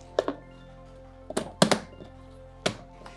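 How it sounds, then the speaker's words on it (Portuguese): Lid of a homebrew beer fermenter being pressed shut, with a few separate hollow plastic thunks and knocks, one of them a quick double, close and moderately loud over a faint steady hum. "Agora é só tampar aqui o nosso fermentador."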